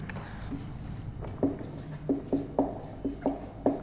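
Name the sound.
writing on a board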